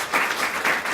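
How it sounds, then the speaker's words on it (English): An audience at a Murrieta community gathering breaks into applause, a loud, steady burst of many hands clapping together that swells in slight waves. "So give him a big round of applause."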